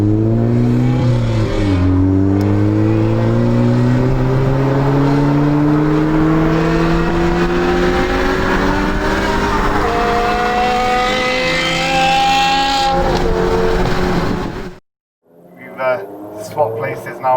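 A modified BMW E60 M5 V10 roars under hard acceleration, its loud, shrill engine tone climbing steadily through a long pull before a sudden cut, then a short burst of revving; voices come in alongside it.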